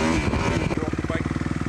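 A dirt bike engine runs close by, its rapid regular firing pulses becoming clearly rhythmic after a brief burst of mixed noise at the start.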